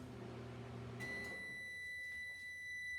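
A microwave hums steadily while melting chocolate chips, then stops with a bright electronic beep followed by a few quieter beeps; close and without speech.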